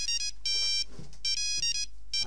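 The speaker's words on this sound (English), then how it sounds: "Oh, wait, my phone's ringing." A phone ringtone plays a bright electronic melody in repeated bursts, several short tonal phrases separated by brief gaps, fairly clear and close, with faint low sounds between them.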